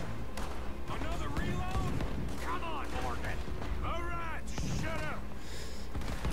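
Scattered gunshots crack amid a dense, noisy game soundscape, with voices talking over the firing throughout.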